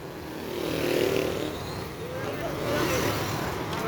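Heavy road traffic on a congested street, a steady rumble of idling and creeping engines with passing vehicles, while people talk nearby over the noise.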